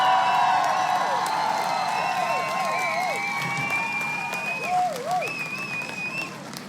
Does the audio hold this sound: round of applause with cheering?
yes